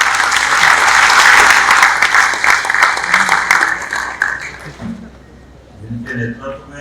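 A large audience breaks into loud sustained applause at a public event in Bhopal honouring Prime Minister Modi, the clapping swelling close and dense before fading away as a voice speaks over it.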